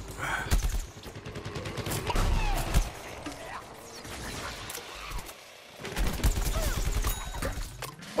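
Rapid gunfire rattles in Plants vs Zombies Garden Warfare as a zombie player shoots at a cactus, loud sustained bursts with short pauses, a brief lull, then another dense volley.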